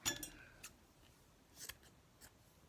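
Scissors snip through a fabric tassel, a few faint, sharp metallic cuts spaced across a couple of seconds in a quiet room.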